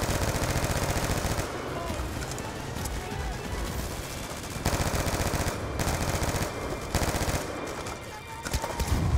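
Rapid automatic gunfire in Call of Duty Black Ops 2 campaign combat, sustained loud bursts of machine-gun and rifle fire with brief gaps, mixed with shouted voices.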